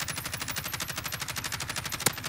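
Rapid automatic gunfire from the battle royale game Warzone, a steady stream of evenly spaced shots close and loud, with one sharper crack standing out near the end.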